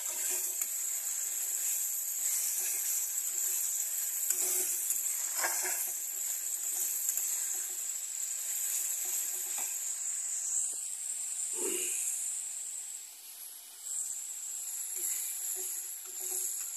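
Masala spices sizzle steadily in hot oil, a continuous soft hiss with a few brief clatters from the pan partway through.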